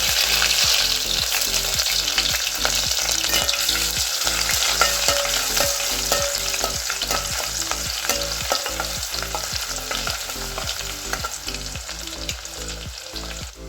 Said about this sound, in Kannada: ಹಾಗೆಯೇ ನಾವು ಹಚ್ಚಿಟ್ಟ ಈರುಳ್ಳಿಯನ್ನು ಕೂಡ ಹಾಕಿಕೊಳ್ಳುವ.